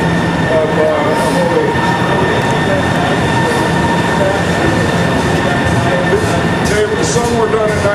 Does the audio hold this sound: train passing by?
yes